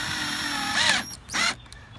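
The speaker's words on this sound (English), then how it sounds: "take a drill or a driver. I've got an 18 volt drill here." Cordless 18-volt drill driving a screw into a wooden deck board, heard as two short, loud whirring bursts separated by a brief pause, with a steady motor whine beneath.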